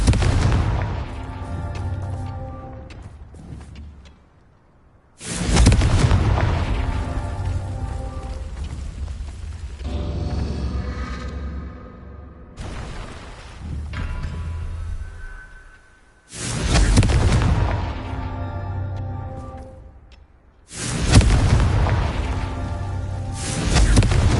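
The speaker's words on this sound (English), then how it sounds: "Bombarda! Confringo!" Spell blasts from Bombarda and Confringo in the Hogwarts Legacy video game: four loud, broadband booming bursts, each starting abruptly and decaying over several seconds, separated by brief quieter gaps.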